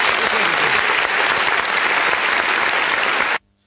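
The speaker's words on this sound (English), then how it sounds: "Jimmy, Paul, Dylan, I think that one deserves a round of applause." A live show audience applauds loudly and steadily, dense clapping filling the room without a break before cutting off abruptly near the end.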